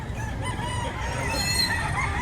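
A rooster crows amid other chickens at a poultry market in Lipa, Batangas, its call rising over a busy background murmur.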